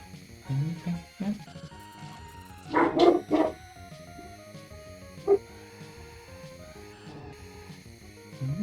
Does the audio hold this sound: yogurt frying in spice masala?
no